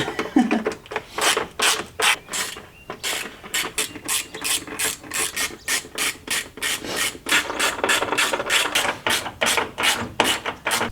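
Rapid ratchet clicking in repeated bursts as a hand ratchet tightens bolts on a V brace cover on a BMW F30, with steady rhythmic strokes at close range and no talking.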